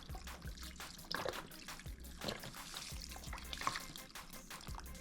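Water is poured into an Instant Pot over red beans and rice ingredients, a faint, steady trickling pour with no voices.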